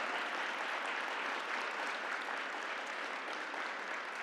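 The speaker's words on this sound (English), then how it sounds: "please give them a round of applause" A crowd at a women's day breakfast reception claps in a dense, steady wash of applause that stays even throughout, heard from a distance with no voices rising above it.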